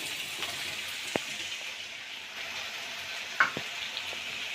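Mushrooms fry in a pan for a garlic mushroom stir-fry, a steady close sizzle with a few scraping knocks as a spatula stirs them around.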